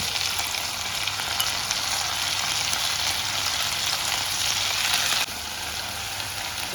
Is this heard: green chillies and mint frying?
yes